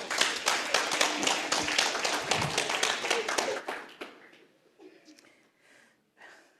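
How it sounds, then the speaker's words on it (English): Audience clapping at a corporate talk event in South Africa, a dense burst of hand claps for about four seconds that quickly tapers into scattered faint claps and room noise. "But clap hands for Bob Milton Nkosi"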